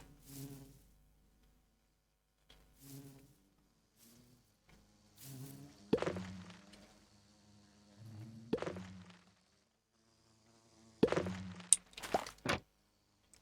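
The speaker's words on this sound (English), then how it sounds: "take the netherite bee, and he's going to pollinate and hopefully go over the top of the ender bee and change it into a wither bee" Bees buzzing in Minecraft's Enigmatica 6 modpack, including netherite, ender and wither bees: intermittent buzzy drones that come and go in short bursts, some louder and nearer, with gaps of near silence between.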